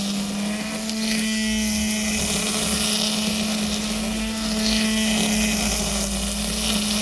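A GTM cordless battery trimmer cuts grass with a loud, close, steady electric whine and a constant hum, its line swishing through the growth with slight surges and no talking.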